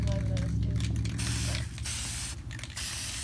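A white base coat of spray paint hisses steadily from an aerosol can onto a deer skull being prepared for hydro dipping. The spray is close and continuous for about three seconds, with a faint mechanical rattle underneath.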